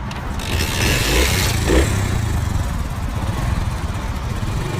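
Motorcycle running on normal petrol, its engine chugging with a steady, rough, close-up putter and a brief rise in revs, continuous throughout with no voices.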